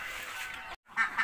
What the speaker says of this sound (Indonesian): di sini kira-kira menampung ada 200 ekor itik